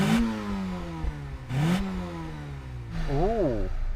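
Volkswagen Golf GTI 16-valve engine revs in a few rising and falling bursts, fairly close and loud, with cabin rumble between the pulls.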